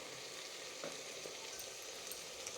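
Vegetables and field beans (avarekalu) frying in a pan for uppittu give a steady, soft sizzle with faint stirring scrapes throughout, fairly quiet and without talk.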